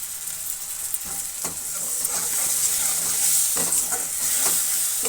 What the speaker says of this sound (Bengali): তো জিরের গুঁড়ো আমার দেওয়া হয়ে গেল, এবার এটা একটু কষাবো।